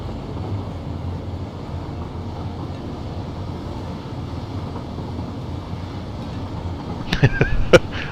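A train runs along rails in the factory-building game Satisfactory, a steady low rolling rumble that holds evenly throughout, with a few sharp clicks and knocks near the end.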